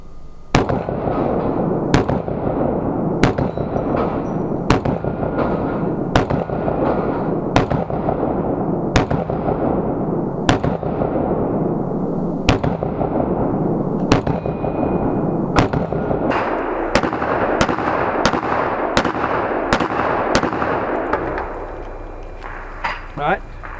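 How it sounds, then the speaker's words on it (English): Glock pistol with no ports or compensator, loaded with Winchester white box ammunition, firing at a steel plate rack: about a dozen sharp, evenly spaced loud shots, then a quicker string of reports near the end. "I'm just going to shoot this plate rack,"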